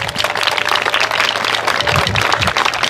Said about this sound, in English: So, round of applause for Zach, even though he's not here.